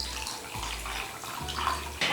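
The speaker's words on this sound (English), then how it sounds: "And now some water." Water poured onto sugar and squeezed lemon in a container, a steady close splashing pour that runs for about two seconds in brief surges, with no voices.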